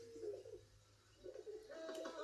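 Pigeons cooing in Assassin's Creed 3, soft repeated low coos in two short bursts over a faint ambient background.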